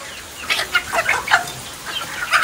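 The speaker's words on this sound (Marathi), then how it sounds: "आणि ते बघत असाल तर कोंबड्या पूर्ण अशा तुटून पडल्या" Hens crowd around freshly mixed feed on a village farm, a steady run of overlapping clucks and short calls rising and falling close by, with no one talking.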